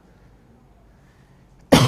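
A person coughs once, a short loud burst at the very end after a quiet stretch, during a French-language political talk broadcast.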